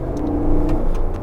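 Cadillac Escalade SUV accelerating, its engine and exhaust giving a steady, loud low rumble heard from inside the cabin, swelling slightly midway through.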